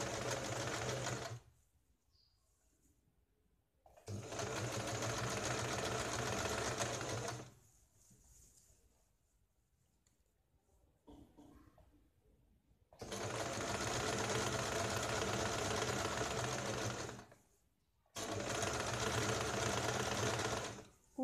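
An electric sewing machine stitches piping onto a blouse in three long steady whirring runs separated by quiet pauses, close and alone with no talk.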